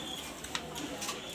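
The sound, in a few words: pigeons cooing in delivery box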